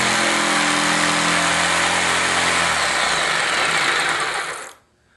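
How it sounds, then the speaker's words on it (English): A jigsaw saws through wood with a loud, steady, buzzing rattle close by, then the blade winds down and stops near the end. "When you're at the end of a cut and you're going into another cut, stop the jigsaw, let it stop"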